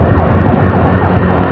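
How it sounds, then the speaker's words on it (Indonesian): An ambulance stuck in a traffic jam in Ciparai wails with a loud, close, wavering siren that fills the whole stretch, mixed with road traffic rumble. "Gua nemu ambulan terjebak macet di daerah Ciparai."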